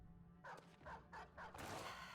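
A war hound in the video game Battle Brothers gives a burst of four or five sharp barks in quick succession, fairly faint over a low background hum.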